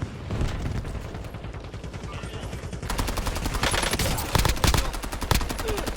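Gunfire from the video game Warzone. It starts as scattered shots, then turns into dense rapid automatic bursts with a few louder cracks, all close and loud.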